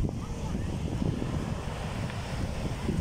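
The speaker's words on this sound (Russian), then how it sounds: "Смотри, какие волны ходят." Steady rushing Black Sea surf at a beach in Adler, Sochi, with wind buffeting the microphone, a continuous low roar of waves washing in, with no distinct voices.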